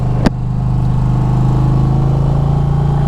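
An Indian Challenger liquid-cooled motorcycle engine idles steadily and close, with a low, even hum and a faint clatter, plus a brief click near the start.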